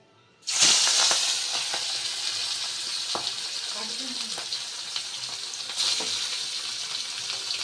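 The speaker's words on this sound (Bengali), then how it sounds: "তেল গরম হয়ে গেছে, এবার মাছগুলো ভেজে নেব।" Pieces of rohu fish drop into hot oil in a home kitchen and set off a sudden loud sizzle that settles into a steady close hiss, with occasional clinks and stirring and brief talk.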